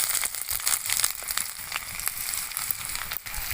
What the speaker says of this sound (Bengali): তো আদা রসুন আমি হালকা একটু ভেজে নেব।